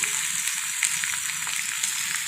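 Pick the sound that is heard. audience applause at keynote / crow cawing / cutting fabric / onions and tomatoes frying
onions and tomatoes frying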